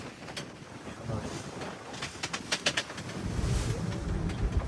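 A ferry ride at sea off the Gateway of India, Mumbai, headed for Elephanta Caves, with steady wind noise buffeting the microphone over the boat's rumble and a few sharp gusts and splashes midway.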